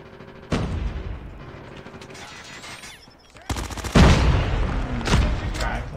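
Rapid bursts of MX9 submachine gun fire in Call of Duty Mobile, loud close automatic volleys with a brief lull before heavier overlapping fire, no talking.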